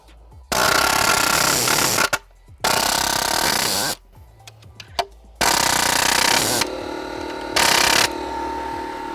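A Ridgid mini palm nailer drives nails into a metal joist hanger in loud rapid hammering bursts, several separate runs broken by short pauses and handling noise.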